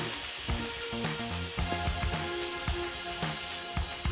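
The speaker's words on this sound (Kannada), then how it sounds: "ನೋಡ್ರಿ, ಈ ರೀತಿ ತುಪ್ಪದೊಳಗೆ ಅದು ಚೆಂದಾಗಿ ಬೇಯಬೇಕು" Grated beetroot frying in ghee for halwa sizzles steadily and close up, with rhythmic scraping stirring strokes cutting through the crackle.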